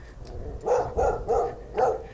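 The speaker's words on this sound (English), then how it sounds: "that dog is off of a leash" A dog off its leash barking outdoors: four loud, sharp barks in quick, fairly even succession, close by, with no talk over them.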